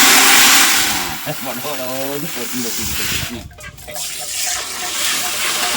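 Steady rushing water, like a tap running hard, fills the clip while voices talk over it close by, as wheat is washed.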